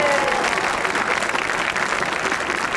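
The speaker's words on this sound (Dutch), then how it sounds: "nog een applaus voor dich." Sustained audience applause after an amateur theatre performance, loud and steady, a dense wash of many hands clapping throughout.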